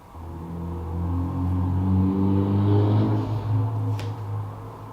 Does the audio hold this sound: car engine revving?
yes